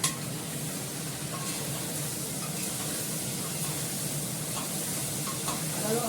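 Spiced food frying in a pan, sweetened with a little sugar and stirred well, giving a steady close sizzle with soft scraping throughout.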